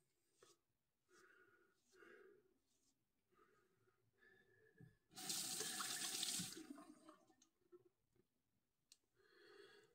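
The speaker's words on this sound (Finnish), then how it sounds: "Ja huuhtelen siis terää välissä." A tap runs in a short loud burst while a razor blade is rinsed under it. Quiet scraping and handling sounds come close before and after, with no talking.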